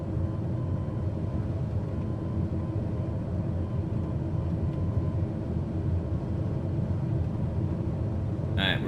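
King Air 350 twin turboprop in Microsoft Flight Simulator on landing approach, giving a steady, dense engine and airflow drone that holds evenly through the whole stretch with no clear breaks.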